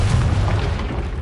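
The Confringo fire spell in Hogwarts Legacy detonates as a loud, booming blast, a single dense explosion that fills the whole moment with a rumbling low-end burst.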